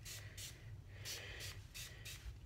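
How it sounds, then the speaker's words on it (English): Six short hissing sprays from a water spray bottle onto a trombone in quick succession, fairly quiet and close, with a low hum underneath. "take your water bottle and just spray it"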